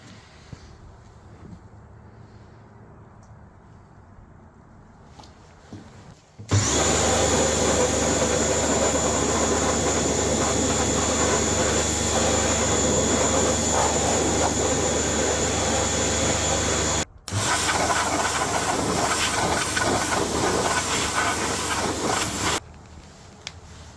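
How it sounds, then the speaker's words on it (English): Pressure washer spraying a machine part after soaking, a loud steady hissing roar that starts abruptly, cuts out briefly, then resumes before stopping, with quieter background hum before and after. "I'm going to tip it out and pressure wash it."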